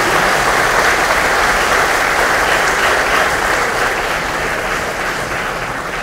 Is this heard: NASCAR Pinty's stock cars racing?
no